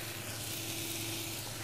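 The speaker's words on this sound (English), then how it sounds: "our mushrooms are nicely frying here" Steady sizzling of mushrooms frying in a hot pan, a continuous close hiss with no talking.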